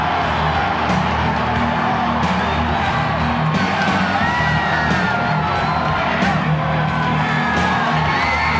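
A loud, dense arena crowd at a 1997 World Wrestling Federation Raw event roars continuously, with whoops, shrill yells and cheering layered over a constant wash of noise.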